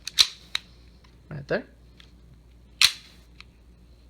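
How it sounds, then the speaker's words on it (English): The slide stop on a Walther P22 pistol is worked, giving a few sharp metallic clicks and snaps spaced apart, fairly close and loud, with a brief spoken comment between them. "This is the slide stop."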